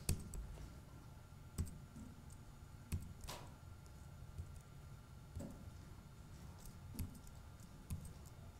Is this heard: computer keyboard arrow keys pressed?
yes